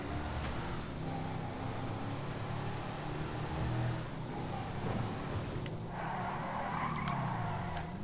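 A car in GTA Online revs and skids, its tires squealing and screeching under a steady engine drone across several seconds.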